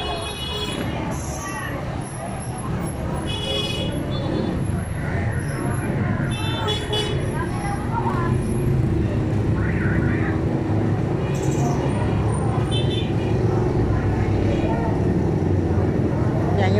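Busy street traffic of jeeps, tricycles and e-bikes outside a school gate sends a steady engine rumble with repeated car horn toots throughout, while people talk nearby.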